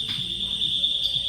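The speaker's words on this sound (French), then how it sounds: "il y a un mec qui a fait sonner une alarme" Shop alarm set off, a steady piercing electronic tone sounding continuously throughout, with faint chatter and store noise beneath it.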